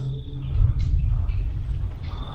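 Thunder rumbles low and heavy outside in the rain near a tunnel at night, a deep rolling swell that builds and lingers without sharp cracks, with no talking.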